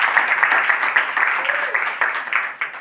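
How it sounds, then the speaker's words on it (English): A studio audience at a live talk show applauds steadily, a dense, bright wash of many hands clapping with scattered louder claps, close and continuous throughout. "Please stop the applause."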